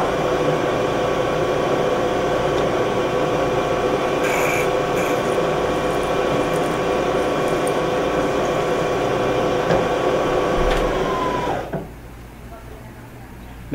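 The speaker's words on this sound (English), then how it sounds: "Now I'm going to drill it to the depth that I desire." A drill hums steadily with a grinding, rasping whir as it cuts a hole to depth in metal, then winds down and stops near the end.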